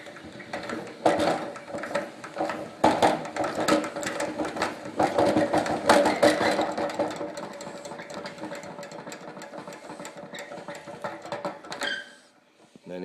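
A hand-cranked honey extractor spinning honey frames, slightly unbalanced, gives a steady mechanical whirring and rattling drone that holds for several seconds, eases off, then stops with a few final clunks.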